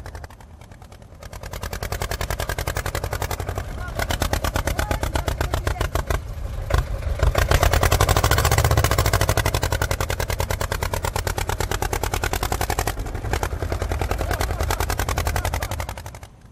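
A tractor engine hauling through thick snow at Kedarnath, a loud rapid mechanical chugging that runs continuously, swelling slightly midway and dropping off at the end.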